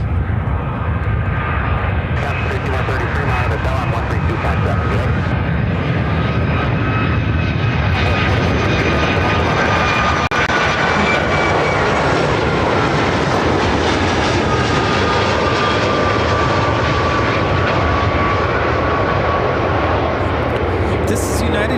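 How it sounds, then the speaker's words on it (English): A United Airlines Boeing 757-300 arrives at Chicago O'Hare from Denver, its loud, sustained jet roar with whining engine tones sliding slowly in pitch across the approach, steady and near, with a voice talking over it at times. "This is United Airlines 617 coming in from Denver, Colorado on the 757-300."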